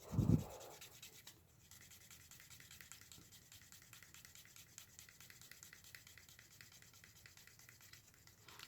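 A solid wood slicker burnishes the edge of thick leather. After a brief louder bump at the start, it makes a soft, steady, quiet rubbing that continues throughout.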